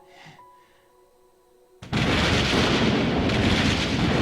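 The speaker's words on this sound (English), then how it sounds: "His shotgun roars, almost as loud as the booming thunder." A loud blast bursts in suddenly and gives way to a sustained, heavy roar like booming thunder mixed with gunfire, following a quiet opening, from a shotgun firing in a storm in the Code: Realize game.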